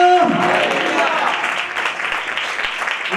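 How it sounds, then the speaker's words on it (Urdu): A church congregation at an evangelist's service bursts into loud, sustained applause that fills the room after a voice briefly rises at the start. "اگر یسوع مسیح کے لیے ہے تو زوردار تالیاں بجائیں۔"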